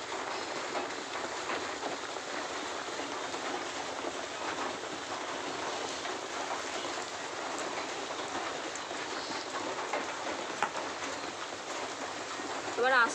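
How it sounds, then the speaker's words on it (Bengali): Biscuits frying in moderately hot oil give a steady, dense crackling hiss that runs without a break from start to finish. It stays close and even, with no voices. "এবার আমি বিস্কুটগুলো এক এক করে ছেড়ে দেবো। খুব বেশি গরম করবেন না তেলগুলো"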